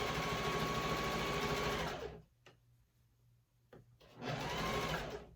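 A sewing machine stitches in fast, steady bursts while sewing and embroidering fabric: a loud whirring run, a pause of near silence with a couple of faint clicks, then the motor starts up again.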